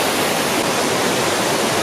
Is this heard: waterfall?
yes